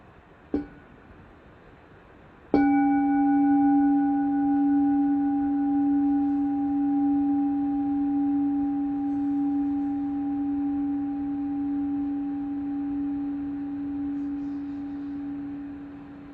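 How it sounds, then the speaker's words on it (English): A large bell is struck once, ringing with a deep, steady hum and clear overtones that sustain and slowly fade, preceded by a faint tap. "So here's the sound of a larger bell."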